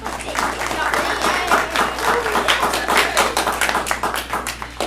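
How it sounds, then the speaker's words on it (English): A school audience at a Grade 10 parent information evening applauds a counselor with loud, dense clapping that holds steady for several seconds, a few sharp individual claps standing out in the crowd. "she deserves a round of applause"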